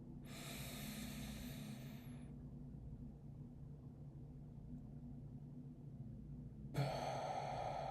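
Slow breaths during a box breathing exercise: a long airy exhale or inhale, then several seconds of held quiet over a low rumble, then another breath begins, close and soft with no talking.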